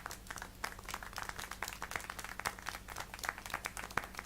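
Rapid, continuous clapping in the video game Syberia: The World Before, many hands at once like a small crowd applauding, steady and moderately distant.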